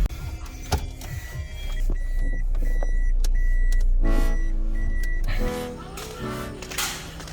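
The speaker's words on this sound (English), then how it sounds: "so just gonna reverse the car so we can get the sound system into the car" A car reversing, with a steady engine hum that swells for a few seconds and then drops away, close by, along with a few clicks and whirs and a brief voice near the start.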